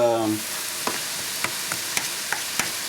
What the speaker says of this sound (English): you can add here pepper, turmeric powder, cumin seed powder, maybe half teaspoon, and salt, and let it fry